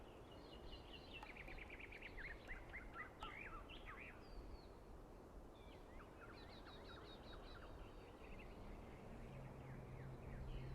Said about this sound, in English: Do you hear the birds chirping outside the dome?